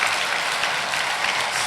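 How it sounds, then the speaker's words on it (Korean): A church congregation gives a brief burst of applause during a Sunday sermon, a full, even roar of many hands clapping together for under two seconds. "그래도 그 이순신 장군 위해서 감사의 박수 한번 쳐드립시다"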